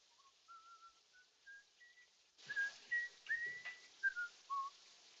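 A man whistles a melody in a film, a clear sequence of sliding tuneful notes, faint at first and then louder and closer.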